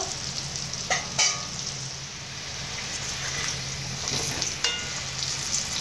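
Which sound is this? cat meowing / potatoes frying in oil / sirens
potatoes frying in oil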